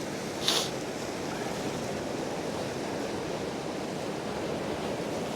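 Fresh wind blowing across a beach during a fishing session, a steady broadband rush with a faint roll of surf beneath and one brief gust near the start.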